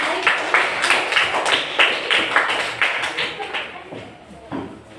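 A classroom gives applause for a student group during a Hindu religious education lesson: several seconds of fairly loud, uneven clapping from many hands that fades toward the end.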